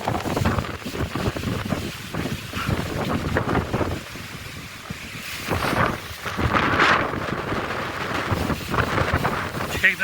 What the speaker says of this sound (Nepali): मान्छे उठाउने हुरी चलेको छ यो